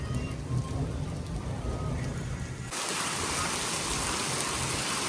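Heavy rain pours in the Himachal Pradesh hills, with small stones falling alongside it. It is a steady, dense hiss throughout that jumps sharply louder midway, as if the listening position suddenly moved closer to the downpour.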